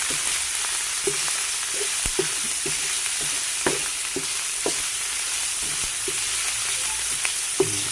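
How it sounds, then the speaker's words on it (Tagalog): Pork sautéing in a pan sizzles steadily and fairly loudly, with sharp clinks and scrapes from stirring scattered throughout. "kasahin lang natin mabuti ang ating pork"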